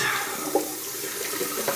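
Cold Austrian mountain water runs from a tap into a sink during a wet shave, a steady close rushing splash lasting the whole time with no talk.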